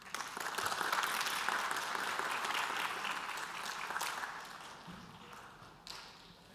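Sustained audience applause fills a conference hall at an international world harmony event, welcoming a speaker to the stage; dense clapping stays steady for several seconds, then thins out and fades toward the end.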